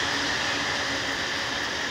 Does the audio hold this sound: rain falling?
no